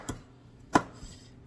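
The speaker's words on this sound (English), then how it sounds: "we're just going to start chopping it up into pieces" A knife chops a hot pepper for sweet and sour chicken, giving two crisp, close knocks on a cutting board about half a second apart, then a fainter third tap, with quiet in between.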